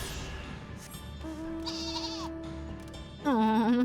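A sheep in Final Fantasy XIV Dawntrail gives a few bleats, first thin and wavering, then a louder, closer bleat to finish, with soft game ambience running underneath and no talking.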